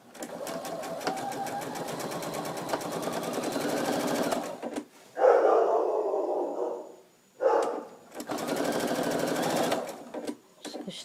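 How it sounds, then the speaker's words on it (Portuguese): A sewing machine stitches a dish towel, running in long steady bursts with a rapid mechanical rhythm, stopping briefly between passes before starting up again, close and fairly loud with no talking. "Costurando."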